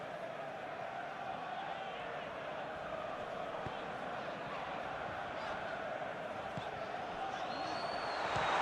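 A stadium crowd in the PES 2021 football game during an Arsenal vs Atletico Madrid Champions League semi-final, a steady distant roar that swells toward the end, under commentary.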